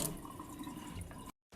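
Six cups of water for cooking rice pour steadily into a pot, a close, continuous splashing trickle that cuts off abruptly into silence.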